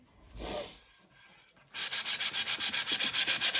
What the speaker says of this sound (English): And go ahead and do a little bit more sanding on it.